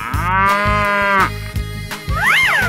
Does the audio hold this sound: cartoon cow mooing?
yes